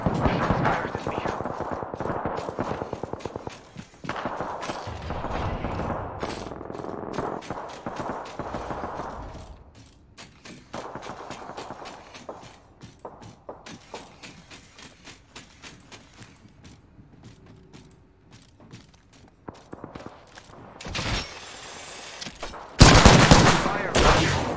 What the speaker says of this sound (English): Fires at me.